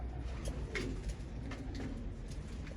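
Racing pigeons coo softly in a rooftop loft, repeated low murmuring calls under steady background noise.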